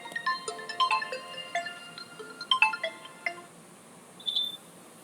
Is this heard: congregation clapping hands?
no